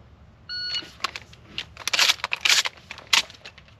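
A shot timer gives one short electronic beep at a live-fire shotgun drill for 3-gun training, followed by a series of sharp, clattering bursts.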